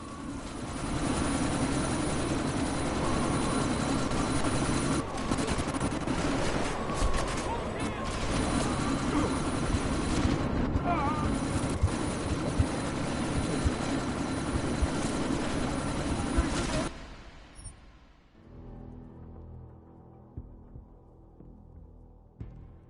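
A helicopter in the video game Deus Ex: Mankind Divided thunders with a loud, continuous rotor throb for about seventeen seconds, with a voice over it, then cuts off abruptly to quiet background.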